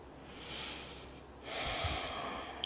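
Slow breaths during a beginner yoga pose, two long airy exhalations or inhalations in a row, close and soft, with a brief pause between and no talking.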